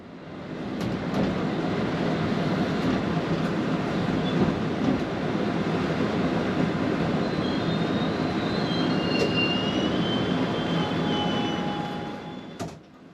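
A London Underground District line train runs steadily near Fulham Broadway, a continuous loud rumble of wheels and motor with faint high squeals from the rails, fading slightly at the end.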